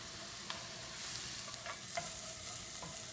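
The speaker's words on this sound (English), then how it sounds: "While my paste is getting nice and brown, it's almost brown" An onion, garlic and ginger paste fries in a pan for shahi paneer, giving a steady soft sizzle with a few brief stirring scrapes and clinks throughout.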